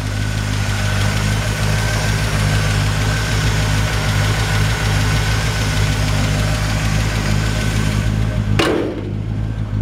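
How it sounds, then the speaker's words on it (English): A 1964 Chevrolet Impala V8 idling through a new Flowmaster exhaust, a steady deep rumble with even low-pitched pulses, loud and close, cut off abruptly near the end. "New Flowmaster exhaust."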